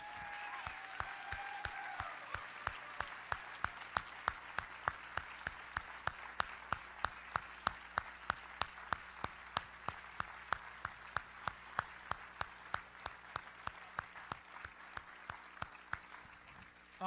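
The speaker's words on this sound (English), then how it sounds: "give a great big round of thanks and applause" Steady applause from a Christmas concert audience, a sustained patter of many hands clapping that gradually fades toward the end.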